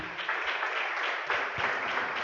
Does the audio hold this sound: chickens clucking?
no